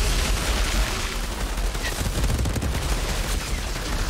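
Dense gunfire in the video game Outriders Worldslayer on Xbox Series S, a loud, continuous barrage of rapid shots and impacts with no pause.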